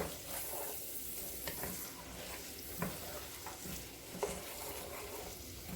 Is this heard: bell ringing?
no